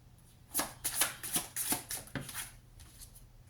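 Tarot cards shuffled by hand in a quick run of crisp, papery riffles and slaps, several distinct bursts close to the mic, ending with a couple of cards slipping free as the shuffling trails off.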